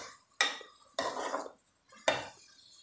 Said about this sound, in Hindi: अब हम इसको यहाँ पे मिक्स करेंगे। अब हमने इसको भी यहाँ पे ऐसे भूनना है।